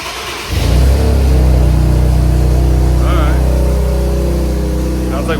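An Infiniti Q50 Red Sport with a freshly installed Spool catless downpipe and a suspected exhaust leak fires up close by, then holds a loud, deep, steady rumble with slight revving.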